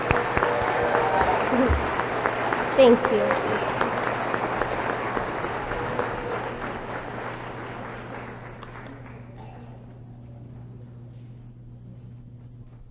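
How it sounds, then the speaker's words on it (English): Audience applause at a nurse pinning ceremony fills the hall, loud at first and then gradually thinning out. A voice briefly speaks over the clapping. "So everyone please give them a round of applause."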